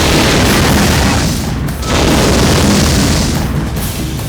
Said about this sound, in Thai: ช่างภาพของเรา ได้บันทึกภาพเหตุการณ์บ้างไฟระเบิดนี้ไว้ได้ทันครับ